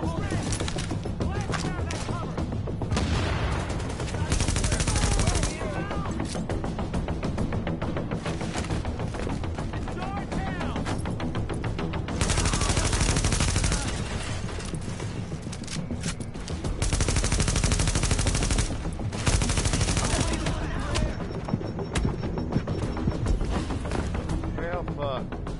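Dense, loud gunfire from a Tom Clancy's The Division video game battle, with bursts of rapid automatic shots and heavy impacts running almost continuously, while voices shout over the shooting.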